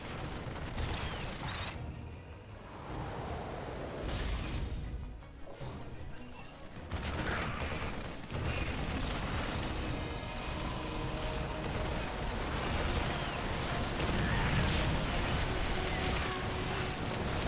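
Hydralisks firing on Vikings in a late-game StarCraft battle, a steady clatter of mechanical shots, crashes and rattling impacts lasting throughout at moderate level, with brief gaps near the start and no talk.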